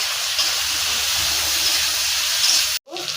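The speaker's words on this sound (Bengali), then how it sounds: "বেগুনটা ভালো করে ওর সঙ্গে ভাজা হবে" Eggplant frying in a pan with turmeric gives a steady, loud, hissing sizzle that runs unbroken for almost three seconds, then cuts out abruptly and returns more quietly.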